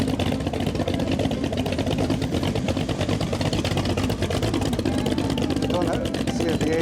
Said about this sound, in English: A Boss horse meaning a bike with a V8 engine on it.